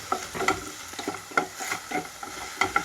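Drumstick leaves frying in a pan for chutney, crackling and sizzling with several sharp spoon-stirring scrapes spread through the clip, close and fairly soft, with no talking.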